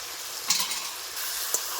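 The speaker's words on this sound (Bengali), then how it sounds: "দিয়ে দিচ্ছি একটুখানি বাটা।" Spice paste dropped into frying mutton gives a steady close sizzle, with a louder burst near the start and another brief flare toward the end, plus light stirring sounds.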